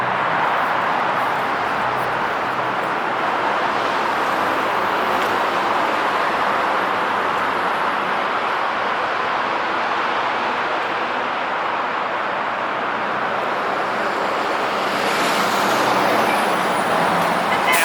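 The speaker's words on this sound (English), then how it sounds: "here comes the traffic" Street traffic rolls through Portland's Hollywood district, a continuous loud wash of passing cars, buses and trucks with no break in the roar.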